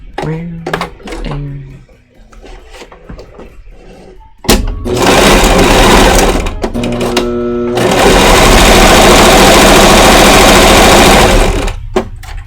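A sewing machine runs loud and close, double stitching fabric in two long continuous bursts, with a steady rapid whirring hum; some quieter handling and clatter come before it starts.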